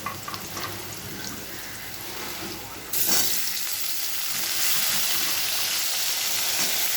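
Drumstick stems fry for a fish curry in a pan, a steady close sizzle that jumps noticeably louder midway as more goes into the hot oil.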